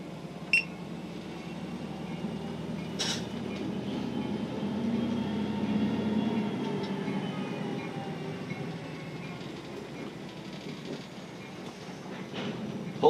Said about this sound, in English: Waiting for this train.